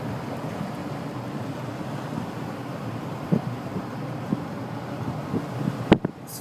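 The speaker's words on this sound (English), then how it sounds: "The temperature has dropped and it's very windy" Strong wind buffets a microphone high on a mountain in Maui, a steady rumbling roar with occasional gusty thumps and a sharp knock near the end.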